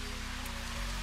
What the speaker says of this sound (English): So yeah, we got to keep an eye on the rain.